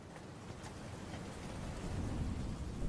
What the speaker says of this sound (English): the sound of the raindrops clicking against the window